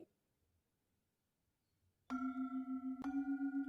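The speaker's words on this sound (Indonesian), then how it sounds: "Ini ada calung, suaranya seperti ini." After a quiet pause, two mid-low notes on a Balinese gamelan calung metallophone ring out in succession, each sustaining with a wavering, beating shimmer, clear and close.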